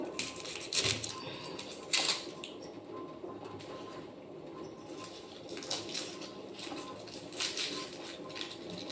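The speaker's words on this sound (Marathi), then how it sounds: "तर बघा छान कांदा कापून टाकूया आणि मिरची पण" A knife cuts onion and chilli in a home kitchen, giving irregular close taps and slicing scrapes against a steady low background, with no one speaking.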